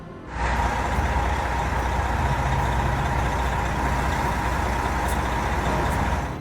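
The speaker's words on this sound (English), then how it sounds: "Carrying such a heavy load is not easy, but this truck is handling it well." A heavy logging truck hauling a big load of wood rumbles along at loud, close range, its engine droning steadily after a sudden start, with faint higher tones briefly on top.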